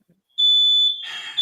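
An alarm bursts on with a sharp, steady high-pitched electronic beep lasting about half a second, then breaks into a buzzier, harsher tone before sounding again briefly at the end.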